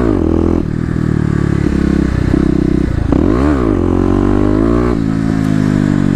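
A Kawasaki KLX250 dirt bike with EJK fuel settings revs hard and accelerates on a slick trail, the loud close engine note rising and falling through gear changes, with a scraping clatter midway.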